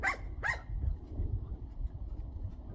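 A dog gives two quick, loud barks close by, then low rumbling background noise follows with no more barking.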